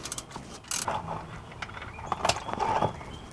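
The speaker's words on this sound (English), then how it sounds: "We are ready to remove the drain plug." A Jeep Wrangler JK transfer case drain plug is being loosened, with close, sharp ratchet clicks and metallic tool clatter in short irregular bursts against a quiet garage background.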